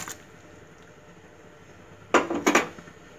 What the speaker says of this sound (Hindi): मैं अपने आप ड्रमस्टिक इसमें डाल दूंगी अभी